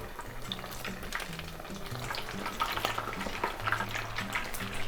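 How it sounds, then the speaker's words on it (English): Battered orange chicken crackles and bubbles steadily in deep oil during its second fry, a dense continuous sizzle with scattered pops, close and fairly loud. "About 2 minutes for the second fry, just till it's really golden brown and cooked all the way through."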